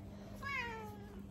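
A cat lets out a single rising, drawn-out yowl of protest as it is lifted up, close by and fairly quiet, with no talking over it.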